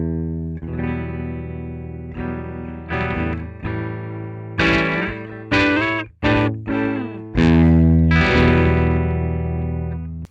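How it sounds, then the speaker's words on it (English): Electric guitar through a Marshall amp with no overdrive pedal engaged, clean tone, a sustained chord followed by a series of strummed and plucked chords ringing out loudly with natural decay, no voices. "this is how the amp sounds without the pedal"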